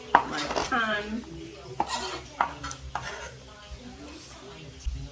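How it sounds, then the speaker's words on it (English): Chopped vegetables for a chicken chop suey are tipped into a cooking pan in a home kitchen, giving a few sharp clanks and scrapes of utensil on metal, with quieter rattling between them. "I'm just going to be placing that into my pan."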